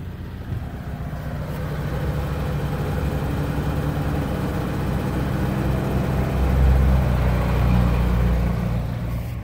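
A petrol generator runs steadily after a dose of Royal Purple Max Clean fuel treatment, its low engine drone holding an even idle throughout with a slight swell near the end, no voices over it.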